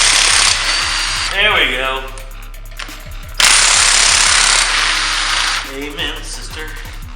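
An air impact gun removes bolts during a B20 engine teardown, firing two long, loud, rattling bursts back to back with brief chatter between them. A voice speaks under and between the bursts.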